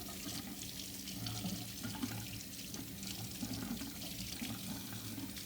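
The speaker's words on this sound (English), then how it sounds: "I'm then going to come over and wash my hands because they're oily." Tap water runs steadily into a sink while oily hands are washed, a continuous close splashing stream with no talk.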